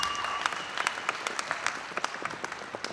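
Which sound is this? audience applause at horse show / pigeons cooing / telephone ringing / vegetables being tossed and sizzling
audience applause at horse show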